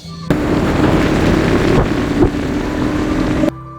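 A motorcycle climbs a hill trail toward Devchuli peak near Butwal. A loud, steady engine roar mixes with wind buffeting the microphone, starting abruptly and cutting off just as suddenly.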